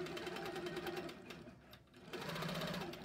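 A Handy Quilter 18 longarm quilting machine runs close by with a steady mechanical stitching hum that eases down briefly in the middle and then picks back up, with no talking over it.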